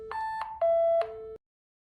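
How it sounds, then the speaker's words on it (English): An iSMA CONTROLLI Android touch panel for building management sounds an alarm: a short run of clean electronic beep tones stepping between pitches, loud and close, then cutting off into silence. "the panel is making this alarm sound that we can stop"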